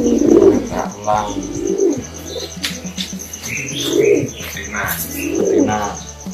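Pigeons coo in soft repeated throaty phrases, several rounds in steady rhythm close by, with faint chirps and a light flutter of wings in the background.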